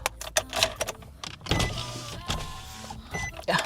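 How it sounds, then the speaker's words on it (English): A car's power window motor whirs as the window opens, a steady mechanical hum of about a second and a half following some clicks and handling noises inside the vehicle. "Let me just open the window."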